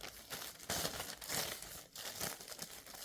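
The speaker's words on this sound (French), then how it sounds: "Comme d'habitude, on ouvre le sachet." Thin plastic bag being opened, crinkling and tearing in several bursts over about three seconds, close and fairly quiet with no speech.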